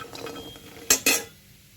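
Fried lentil dumplings are lifted out of a wok of oil with a metal utensil, giving two sharp metallic clinks against the pan amid quiet kitchen background.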